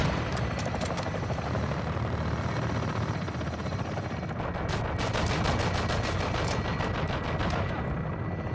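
Dense, loud bursts of rapid automatic gunfire in the video game Modern Warfare II, rattling over a steady helicopter-like rotor roar and continuous battlefield rumble, with no speech.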